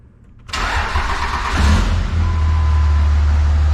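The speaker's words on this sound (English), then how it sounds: "Starting the engine." A Ram car engine cranks and catches after a quiet moment, then settles into a loud, steady idle with a low rumbling drone.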